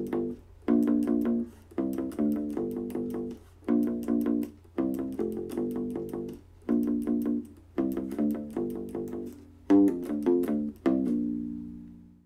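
A U-Bass with flatwound strings is picked through a repeating phrase, clear plucked notes in regular groups with short gaps between them and a final note left ringing. It is close, steady in loudness, and heard alone.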